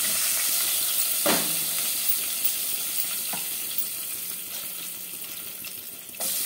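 Bay leaves and dried red chillies sizzling in hot oil, a continuous loud hiss with a few sharp pops and crackles breaking through.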